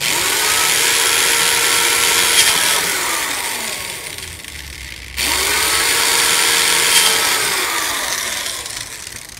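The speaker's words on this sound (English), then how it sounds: "you'll want to help drill in holes at those spots" A power drill bores holes into a 5-gallon plastic bucket in two separate runs, its motor whine rising and then dropping off each time, loud and close.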